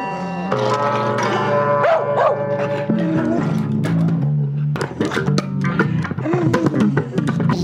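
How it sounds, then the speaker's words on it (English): A pet dog yips and barks along with bass guitar playing, short repeated vocal bursts mixed in with the music, loud and close. "How do I put together a CD with dog noises?"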